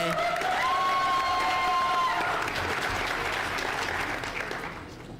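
Applause and cheering at a Cooley Law School graduation ceremony in Florida rise as sustained crowd clapping with a whistle near the start, then fade gradually toward the end.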